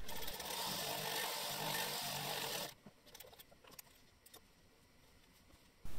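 A sewing machine runs steadily while stitching two cycling cap head panels together, a loud continuous whir lasting under three seconds before it stops, leaving quiet handling clicks and a brief restart at the end.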